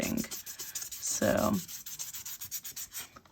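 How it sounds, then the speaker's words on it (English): Fine sanding on a stamped decoupage project, with short rhythmic rubbing strokes rasping close to the microphone, one heavier stroke midway, and a single brief spoken word. "Just want to do a very, very fine amount of sanding."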